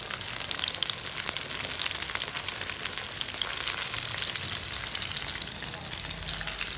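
Flour-coated chicken deep-fries in oil over a medium flame, a dense, continuous close sizzle with fine crackling and occasional faint stirring, steady in loudness throughout.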